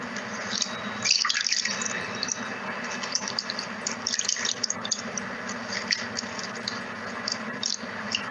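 Tap water runs steadily at a sink during a face-washing skincare routine, a continuous close splashing and dripping wash with no talk over it.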